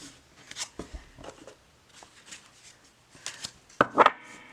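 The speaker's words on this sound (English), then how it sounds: "So let's shuffle." Tarot cards are shuffled in soft riffling bursts and light slaps, with a couple of sharper flicks near the end, close and fairly quiet.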